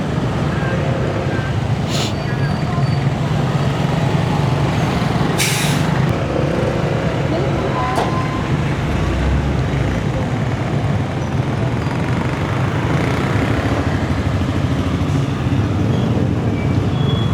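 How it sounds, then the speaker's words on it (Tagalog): Steady, dense road traffic with trucks and buses rumbles nearby for the whole stretch, with a few sharp hisses like air brakes cutting through. "Traffic."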